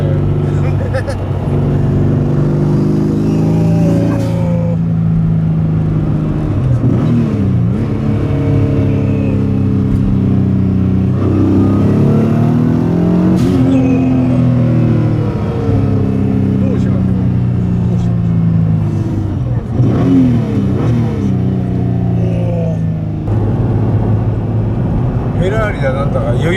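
A Toyota Hiace van fitted with a Nissan R35 GT-R engine revs hard and accelerates in repeated rising pulls, loud and close, with an excited voice talking over it throughout.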